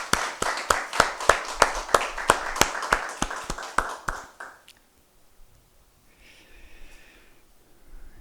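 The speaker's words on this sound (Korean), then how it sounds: "우리 하나님께 한번 큰 영광의 박수를 한번 올려드리십시오." A church congregation claps together at a year-end worship service, a run of sharp, fairly even hand claps that fade out after about four seconds into near silence, with a faint murmur afterward.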